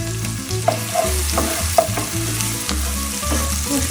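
Ginger and garlic fry gently in hot oil with dried red chili and cumin paste for a katla fish curry, a constant crackling sizzle broken by repeated scraping stirs, close and loud.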